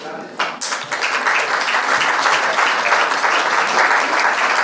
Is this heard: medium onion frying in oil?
no